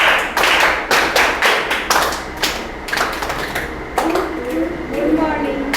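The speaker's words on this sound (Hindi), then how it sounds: "Good morning Tali start." A class of children performs a rhythmic good-morning clap, with a run of sharp, evenly spaced hand claps and taps ringing out close by in a room, a voice briefly audible near the end.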